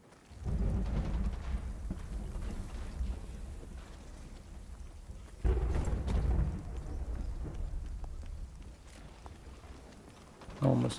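Storm in The Cycle Frontier video game: a continuous hiss of heavy rain with deep rolling thunder swelling loudly twice, then a final rumble near the end.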